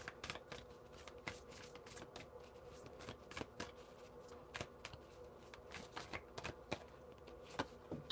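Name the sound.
tarot cards being shuffled and drawn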